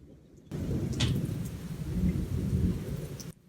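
Thunder rolls in a long, deep, continuous rumble lasting about three seconds after a heavy downpour, loud and close, with no voices.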